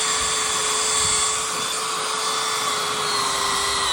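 A power drill bores through the sheet-metal roof of an LDV G10 van, a steady high-pitched whine held continuously and loud, close by, with no talk over it.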